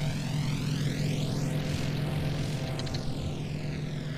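A Beech 18 twin propeller plane in a flight simulator game, its engines droning steadily and loudly throughout, with a rising and falling pitch sweep and no talking.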